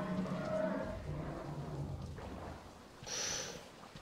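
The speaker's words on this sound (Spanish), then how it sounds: "Oigo bichos rugir." Creatures roar and growl in the post-apocalyptic game Metro Exodus, deep rumbling bellows filling the first two seconds, then a harsher burst near the end, moderately loud with no talk.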